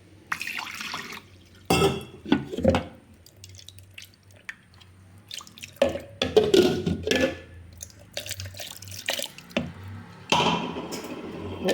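Water is poured in several separate bursts, each a short trickling, splashing gush into a container, with quiet gaps between them.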